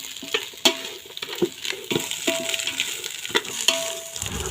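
Fried rice with small pieces of fried chicken is stirred in a hot pan, a spoon knocking and scraping in irregular strokes over a light sizzle, close and moderately loud, with no speech.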